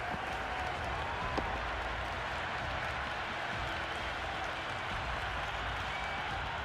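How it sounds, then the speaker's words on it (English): Dense stadium crowd in Cricket 26, a broad continuous roar of applause and buzzing voices from the stands, steady and loud throughout after a big shot. "It's the most enthusiastic crowd you could ever see right now. There's a buzz, a real buzz coming from the stands."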